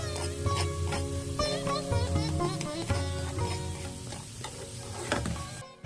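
Vrat tikkis fry in hot oil over a high flame, giving a steady, close sizzle that runs unbroken through the whole stretch with no talking.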